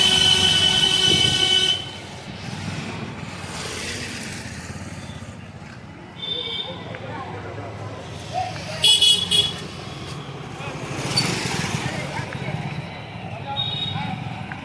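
Street traffic outside a railway station rumbles steadily with a car horn tooting now and then, while people talk nearby over the noise.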